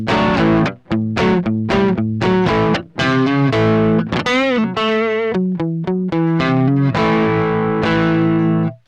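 Electric guitar played on the front pickup with its volume rolled down, through a Blackstar Debut 10E practice amp, giving a run of loud, sustained notes and chords with a clear, even rhythm and brief gaps between phrases.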